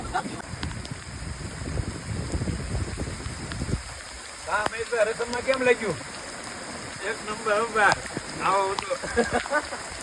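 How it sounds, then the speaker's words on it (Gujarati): Heavy first-of-season monsoon rain pours down in a loud, continuous hiss, then drops to a softer background wash as people start chatting nearby. "પણ આજે વરસાદ ચાલુ થઈ ગયો ને"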